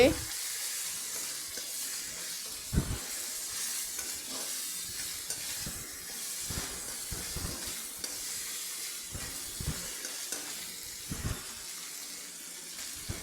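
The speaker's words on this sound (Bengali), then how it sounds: "লবণ হলুদ ভালো করে কষিয়ে" Raw jackfruit pieces with salt and turmeric are stir-fried in a pan, a steady sizzle under repeated scraping stirs that come every second or so throughout.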